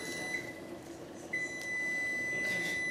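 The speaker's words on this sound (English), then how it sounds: "You're wondering why all that beeping's going on, don't you?" A high, steady electronic beep sounds twice, each tone sustained over a low background hum of machinery.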